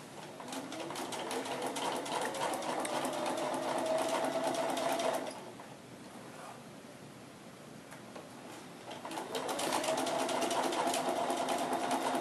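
A sewing machine hums steadily as it stitches lines through freezer paper for foundation piecing, running for about five seconds, stopping briefly, then running again, close and loud with no talking.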